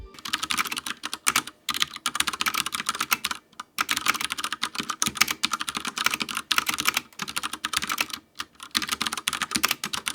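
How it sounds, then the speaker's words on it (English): Rapid typing on a mechanical keyboard fitted with seamless PBT keycaps, a steady stream of close, crisp keystrokes in bursts with a few brief pauses, no voices. "this keyboard has been absolutely awesome, and I'll give you guys how it sounds right here."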